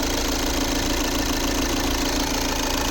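A 2014 VW Tiguan 2.0 TDI diesel engine idles steadily up close, a constant low rumble with a rough, knocking clatter and no pauses.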